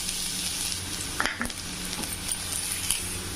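Steady, crackling sizzle of finely chopped garlic frying in hot oil in a pan fills the clip, with a few brief clinks and stirring knocks partway through.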